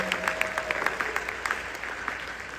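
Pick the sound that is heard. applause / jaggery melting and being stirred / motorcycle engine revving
applause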